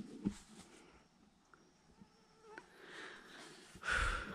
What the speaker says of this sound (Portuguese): Muito mosquito. Tchau, mosquito.